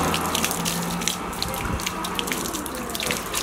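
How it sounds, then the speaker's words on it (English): Rainwater is swept with brooms across a leaking rooftop in Puerto Rico into drainage holes, giving a steady, close splashing trickle and brushing swish with faint voices far behind. "they are just sweeping all of the water from the rain last night to go down into the drainage holes"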